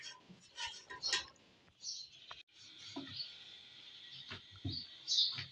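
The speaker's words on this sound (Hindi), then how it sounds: "चिड़ियों की आवाज़ें तो आपको पता है हमारे घर में आती रहती है" Small birds chirp and tweet around a house, intermittent and fairly close, with quiet household sounds and occasional soft voices in the background.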